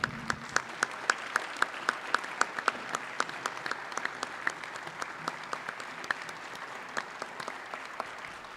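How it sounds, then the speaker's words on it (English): A hearty round of applause fills a legislative House chamber, steady rhythmic clapping from a moderate crowd with sharp individual claps standing out, continuing evenly throughout without speech. "Will he and they please stand for a hearty round of applause?"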